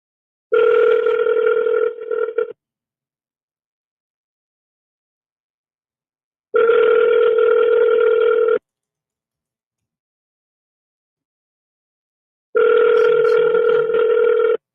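An outgoing phone call rings out with three identical electronic ringback bursts, each about two seconds long, separated by roughly four seconds of silence, clear and alone.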